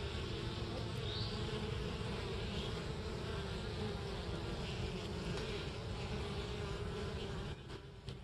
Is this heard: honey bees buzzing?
yes